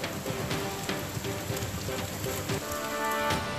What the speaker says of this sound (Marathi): जोरदार पावसालाही सुरुवात झाली आहे